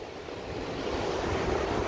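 Spring floodwater from the river in Zhitikara rushes through open sluice gates, a broad, steady roar that swells slightly louder over the span, with no voices.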